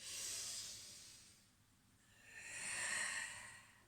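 Long, airy exhalation during a stretching workout, a breathy hiss fading out over a second or so, then a second breath swelling and trailing off, close and soft with no talk.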